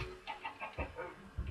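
A Minecraft chicken gives a few soft, faint clucks in quick succession over low game background noise.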